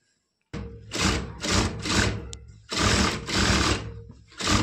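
A sewing machine stitches the seam of a lehenga blouse in several quick, loud bursts separated by brief pauses, close and mechanical with no talk.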